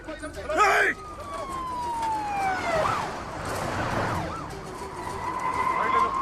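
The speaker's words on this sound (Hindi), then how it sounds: "पुलिस की गाड़ी आ रही है, जल्दी।" Police car siren wailing in sweeping rising and falling tones, moving closer amid traffic noise, with a voice speaking briefly over it.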